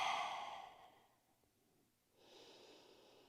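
A single slow exhale during a beginner yoga session, a soft airy breath that fades out, followed by a pause and then another quieter breath, close and faint with no talking.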